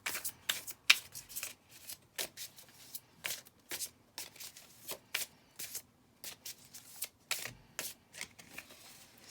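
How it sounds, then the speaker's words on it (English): A deck of tarot cards being shuffled by hand in a quiet room, with repeated crisp riffles and flicks coming in irregular bursts, close and fairly soft, with no voices. "we gotta shuffle."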